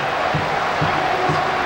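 A packed Koshien Stadium crowd applauds steadily at a 1992 spring high school baseball tournament game between Mie and Teikyo, producing a dense, continuous wash of clapping and cheering noise.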